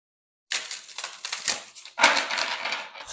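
Tarot cards are shuffled by hand in a dense, close, riffling rustle of card stock that starts abruptly and runs on with short breaks and bursts.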